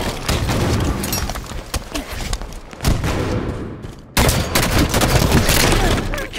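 Dense bursts of rapid gunfire and booming blasts in a Halo 5 Big Team Battle Strongholds match on the Entombed map, loud and continuous with a brief lull before a sharp renewed barrage.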